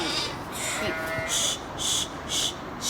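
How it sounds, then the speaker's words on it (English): Sheep bleat in a run of four or five loud, separate calls at an even pace, a simple farm-animal sound with no talking over it. "It's a sheep."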